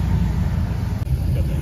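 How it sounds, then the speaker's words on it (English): Car engines at a charity car show rumble and idle nearby, a steady mid-pitched drone with a brief dip, no speech. "Everyone's starting their cars up now."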